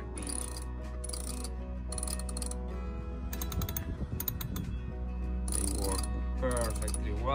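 An Andersen ST40 self-tailing sailboat winch on a Hallberg-Rassy 312 is turned in bursts, its ratchet pawl clicking in short crisp runs separated by pauses and brief mechanical rattles, close up.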